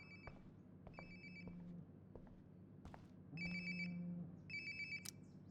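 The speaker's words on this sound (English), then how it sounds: "Sounds like my phone is definitely nearby." A telephone rings in Life is Strange: Before the Storm Remastered, repeated electronic ring bursts close by over a low room hum, with faint footsteps between the rings.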